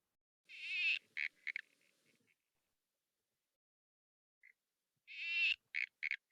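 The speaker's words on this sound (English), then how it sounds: "on the left, we have the Barrington Tops tree frog" A Barrington Tops tree frog calls twice, each bout a harsh rasping burst followed by a few short pulsed notes, isolated against silence with a faint single chirp between.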